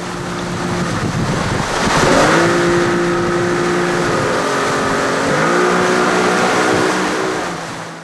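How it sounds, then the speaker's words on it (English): Kiteboarding at sea off the Baltic coast brings a loud, continuous rush of splashing water and wind buffeting the microphone. A steady droning tone swells and shifts under the noise, and no voices are heard. "There's the sound of the splash water and the hard thuds of your board as you go along."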